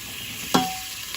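A single sharp hiss as onion hits a hot pot, fading into a soft steady sizzle, with a faint clink near the end.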